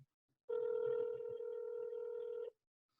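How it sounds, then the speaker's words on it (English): Ringback tone on an outgoing telephone call: one steady electronic buzz that starts suddenly, holds for about two seconds and cuts off, clear and alone after a brief quiet gap. "Hold on, it's ringing."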